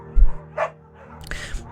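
A beagle barks in the Firewatch video game: a single short low bark, then a brighter yip and another bark a moment later, close and fairly clear over a quiet background.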